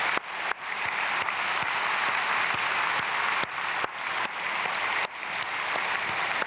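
A church congregation claps steadily for several seconds, a warm sustained applause with no voices standing out.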